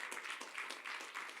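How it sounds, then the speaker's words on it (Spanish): Brief applause from a church congregation during a sermon, a soft, steady wash of clapping heard from a distance. "denle un aplauso al Señor"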